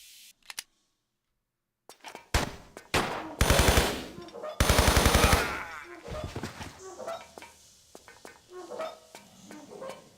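Gunfire from a gun in the video game Tomb Raider 3 Remastered comes in loud rapid bursts after a short silence, followed by softer game sounds and echoes.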